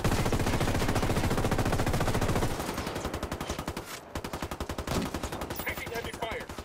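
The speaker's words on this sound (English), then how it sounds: "Taking heavy fire." Rapid automatic gunfire crackles in a shooting video game, a dense sustained burst that eases into slower, evenly spaced shots, with faint talk underneath.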